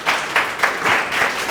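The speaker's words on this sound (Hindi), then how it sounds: "इनके लिए ताली मारिए जी।" A group of students claps in a classroom, a short burst of applause with several rhythmic swells, fairly close and with no talk over it.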